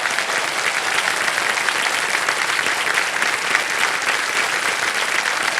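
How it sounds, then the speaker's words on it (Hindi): Sustained, dense applause from a studio audience on a televised quiz show, a steady wash of many hands clapping at even loudness throughout, with no voices over it. "तालियां बज जाए इनके लिए।"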